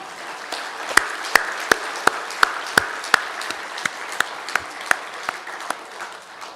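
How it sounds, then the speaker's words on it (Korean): A church congregation applauds together, a sharp, fairly close burst of many hands with crisp individual claps standing out, continuing for several seconds before thinning at the end. "우리 아내와 엄마를 위해서 감사의 박수 한번 치십시다."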